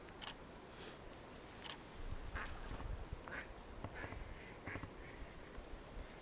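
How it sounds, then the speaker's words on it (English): Faint ducks quack in short scattered bursts over a soft outdoor hiss, a few calls overlapping in the distance with no talking. "Can you hear the ducks? They're still there."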